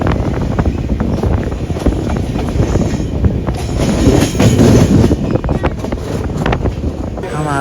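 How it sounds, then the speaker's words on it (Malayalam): The Kerala Sampark Kranti Express, running from Ernakulam to Mangaluru and moving slowly through a stretch of track work, makes a loud, steady rumble and rattle mixed with heavy wind buffeting, continuous throughout. "വർക്ക് നടക്കുന്നതുകൊണ്ട് ട്രെയിൻ പയ്യെ വന്നത്"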